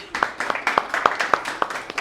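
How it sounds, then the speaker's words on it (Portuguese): Scattered applause from a small lecture audience, distinct individual claps landing in a loose, quick rhythm, fairly faint and close, with no talk over it. "Foi palmas para a Thaís"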